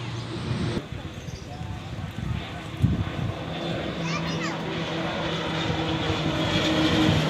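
A KT-1 Wong Bee propeller aircraft drones steadily and grows gradually louder, its engine hum rising as it takes off, with faint crowd noise in the background.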